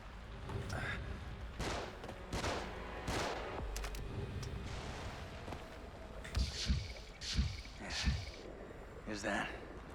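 Enemies fire bursts of gunshots in The Evil Within, sharp cracks landing in clusters, some close and heavy, amid background game noise and voices.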